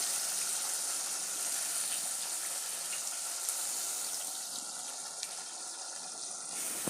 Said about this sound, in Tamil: அப்படியே வடிகட்டி கொஞ்சம் கொஞ்சமாக வடிகட்டி புளி கரைசல் போடணும்.